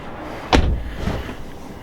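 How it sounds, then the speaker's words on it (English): A single solid thud of a BMW M3 E93 hardtop convertible's door shutting, close by, followed by a muffled, quiet interior. "Let's go ahead and close the door."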